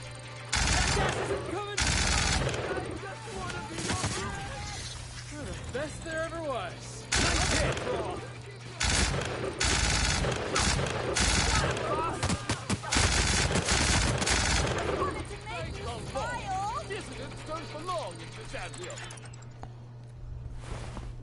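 A new gun firing in The Outer Worlds, bursts of rapid automatic fire broken by pauses and single shots, with someone talking between the volleys.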